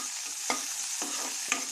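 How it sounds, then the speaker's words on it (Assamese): Onion fries in refined oil in a pan with a steady low sizzle, broken by three evenly spaced scrapes of a spoon stirring against the pan. No one speaks. "পিঁয়াজটো অকণমান ৰঙা হোৱালৈকে ভাজিম।"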